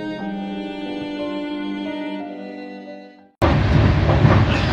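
Inside a moving train on the Kolkata to New Jalpaiguri run, a steady tonal hum gives way after a brief drop to a loud, continuous rush of close carriage and rail noise.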